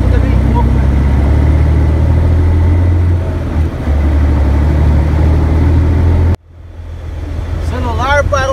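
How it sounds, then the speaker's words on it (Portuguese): A steady, loud low rumble comes from a Fiat FNM truck engine, heard from inside the cab with the windows closed, before it cuts off abruptly and faint sounds follow. "Como eu gosto de ouvir o ronco do caminhão"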